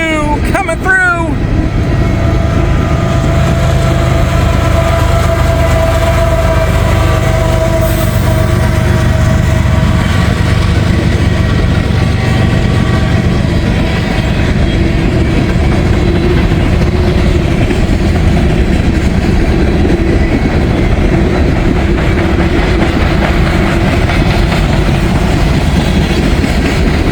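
A fast freight train with a DPU locomotive passes close by, a loud, unbroken roar of rumbling wheels and rhythmic clickety-clack that holds steady throughout.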